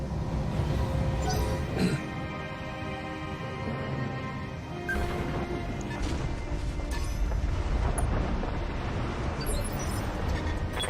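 Weapons fire in the BattleTech video game: a dense run of crashing impacts and booming shots layered over a continuous rumble, with a sharp hit near the start and another burst midway.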